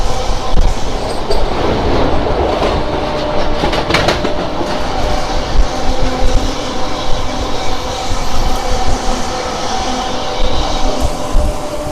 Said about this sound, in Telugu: చూసుకుంటే మనకు వచ్చేసి కేరళ ఎక్స్ప్రెస్ అయితే వెళ్తుంది